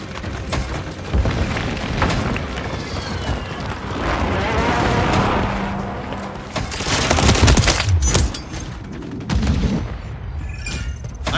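Gunfire in Call of Duty Modern Warfare 3 multiplayer, likely the JAK Voltstorm: dense, continuous bursts of shots mixed with booming explosions and battle noise, loud and close throughout.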